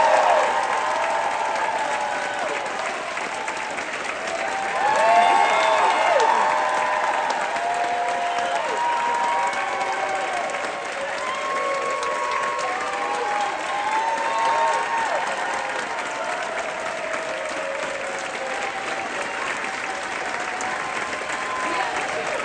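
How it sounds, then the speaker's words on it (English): Sustained applause from a Broadway theater audience honoring the crew at the final curtain call of Kimberly Akimbo, a dense steady wash of clapping with scattered cheers and voices mixed in throughout. "Will you please applaud for them?"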